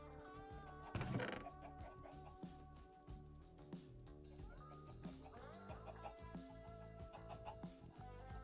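Chickens in Minecraft cluck in short repeated blips over a steady game-music background, with one louder burst near the start and talk mixed in.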